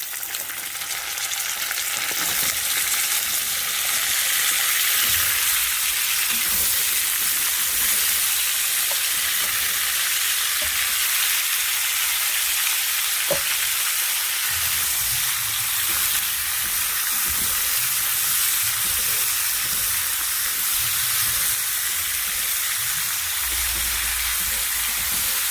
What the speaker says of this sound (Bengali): পেঁয়াজটা ভাজা হয়ে গেছে, এবার তুলে দিচ্ছি পুঁই শাক আর কচু আলু দিয়ে একটু মাখা মাখা হবে।